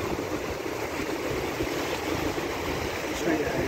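Strong ocean waves at Lawis beach make a loud, continuous roar of surf and churning water that barely lets up.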